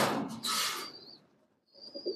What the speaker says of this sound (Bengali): এগুলো বেজি কবুতর, সিলভার বেজি